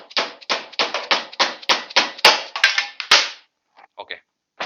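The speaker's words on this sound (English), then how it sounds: "I am using blunt screwdriver and the rubber mallet." A rubber mallet strikes a blunt screwdriver against a stuck bolt on a Royal Enfield rear shock absorber, about a dozen sharp, loud, evenly spaced knocks followed by a few lighter taps after a pause.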